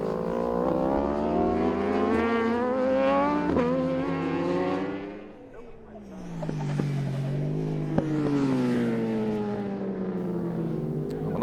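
Masters Superbike racing motorcycles, Suzuki and BMW machines, scream past at high revs, their engine notes climbing through gear changes, dipping as one passes, then rising again, loud and close with no talk.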